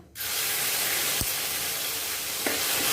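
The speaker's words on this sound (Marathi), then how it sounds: "जिरं चांगलं भाजलं की त्याच्यामध्ये हिरवी मिरची आणि आलं ह्याचा ठेचा घालायचा" Green chili and ginger paste hits hot oil with roasted cumin in a pan, a loud, steady sizzle and spatter that runs the whole time, with a couple of brief clinks near the start and end.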